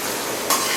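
Tomato frying in a pan with garlic, shallots, dried red chillies and curry leaves for a tamarind kuzhambu, a constant loud sizzle that swells sharply halfway through as the mixture is stirred.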